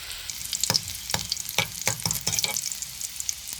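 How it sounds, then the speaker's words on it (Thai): White shallots fry in hot oil for a northern Thai fish larb, giving a bright, steady sizzle nearby with repeated spatula scrapes and taps against the pan. "ตั้งน้ำมัน เอาหอมขาวสุบลงมาเกี่ยวน้ำมันให้มันหอมก่อนนะเจ้านี่"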